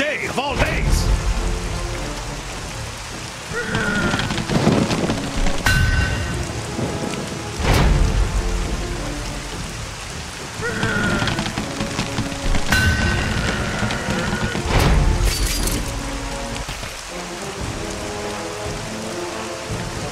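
Steady rain pours in the video game The Cursed Crusade, a continuous hiss with rumbling thunder-like booms and voices speaking over it.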